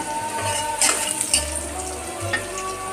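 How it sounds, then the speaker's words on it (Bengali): Potatoes and onions fry in a pan with a close, steady sizzle, broken by brief low rumbling bursts and a light stir. "আমার কিন্তু আলুর সাথে কিন্তু পেঁয়াজটা দেখেন মোটামুটি ভাজা হয়ে গেছে"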